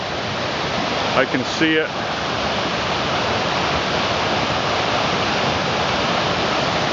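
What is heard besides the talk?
small waterfall on the trail to Fairy Falls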